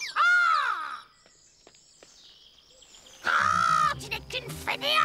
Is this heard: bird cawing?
yes